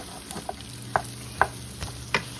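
Sausage fries low and slow in a pan, a faint steady sizzle broken by several sharp scrapes and clinks as it is stirred and pushed around.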